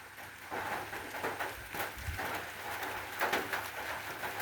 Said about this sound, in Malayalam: മഴ ഉറയ്ക്കുന്നുണ്ട്.